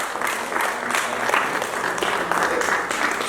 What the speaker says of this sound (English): we continue to clap